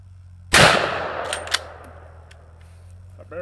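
A single loud, close rifle shot from a Browning BLR lever-action in .300 WSM firing a 180-grain round, a sharp broadband blast that decays into a long ringing echo, with faint clinks afterward.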